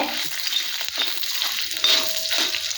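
Curry leaves fry in hot oil for a tomato chutney, giving a loud, close, continuous sizzle and crackle, stirred now and then, with no talking.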